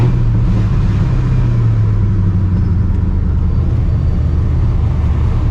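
Deep, steady rumble of a cammed, supercharged 1999 Ford Mustang GT being driven, loud and close from inside with a low engine drone throughout.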